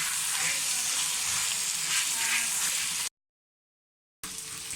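Beef keema mixed with red chilli and spices sizzles and fries steadily on a hot tawa, a close, constant crackle broken by a short silent gap before the sizzle returns.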